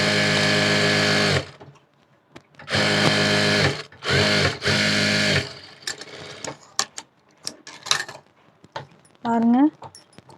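An electric sewing machine stitches blouse lining in loud bursts of rapid, even stitching, stopping and starting three or four times, followed by quieter handling clicks and a brief voice.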